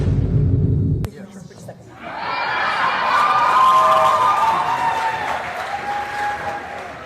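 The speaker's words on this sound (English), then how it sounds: "the people in the church were applauding for kicking these people out" A church congregation breaks into applause after a short low rumble and a sharp click, building into sustained clapping and crowd noise mixed with shouting voices.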